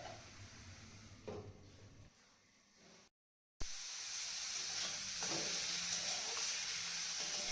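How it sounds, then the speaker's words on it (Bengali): Leafy greens with sugar stirred in a wok give a steady close sizzle and scraping, briefly dropping to near silence mid-way before the loud frying resumes; no talking. "চিনিটা দিয়ে আমি আবারও শাকটাকে ভালো করে নেড়ে নিচ্ছি"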